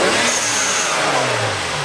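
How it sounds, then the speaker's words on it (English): A 500 hp BMW 335i E92 with the turbocharged N54 engine revs loudly and close, its note rising and falling through a continuous engine roar with no talk. "we'll give her a quick rev and see what she sounds like"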